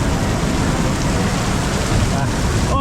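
Heavy rain during a storm in Thailand hammers down as a loud, dense, unbroken roar of rain on surfaces, close and constant throughout the short stretch.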